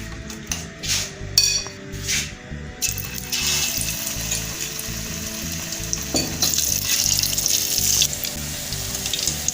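Pakora mixture hitting hot ghee in a pan: a few clinks and scrapes at first, then a loud, continuous crackling sizzle of frying that fills the rest, with no talk.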